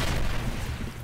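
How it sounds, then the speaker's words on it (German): A grenade explodes in the video game SKILL Special Forces 2, a brief, dense, booming blast with rumbling crackle that fills the moment and fades slightly. "Granate fliegt!"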